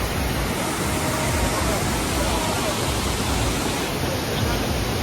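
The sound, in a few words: Lodh Waterfall, Jharkhand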